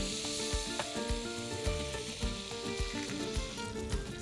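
Rockfish or lingcod fillet frying with lime juice in a pan, a steady close sizzle and hiss with small crackling pops scattered throughout, alone with no voices.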